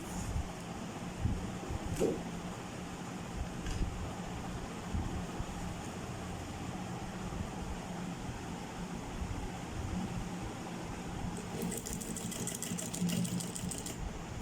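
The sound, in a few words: sewing machine stitching a strip onto a crochet bag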